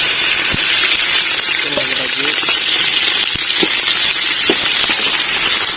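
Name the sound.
green chillies sizzling in hot oil for biryani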